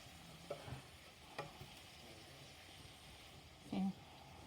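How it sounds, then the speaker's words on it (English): Tomatoes and green onions frying in about three tablespoons of oil in a skillet for an egg and tomato stir fry, giving a steady low sizzle with a few brief utensil clinks and a short louder stir near the end. "I'm just frying it in the skillet."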